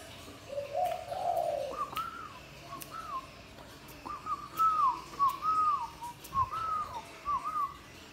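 Spotted doves kept in an aviary coo repeatedly in soft, rounded rising phrases, several calls spaced across the stretch with faint background noise and no talking.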